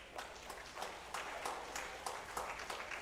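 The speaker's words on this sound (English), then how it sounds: "Give her a round of applause." Audience applause at a Pan Trinbago South/Central steelband festival preliminaries, a steady wash of clapping from a crowd, moderately loud with sharper bursts scattered throughout.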